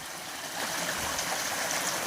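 A flowing stream with clear water over gravel makes a steady, broad rushing wash, close and continuous with no voices.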